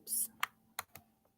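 A few quiet, separate keystrokes on a computer keyboard, typing an assignment into Google Drive, with short clicks spread across a brief moment.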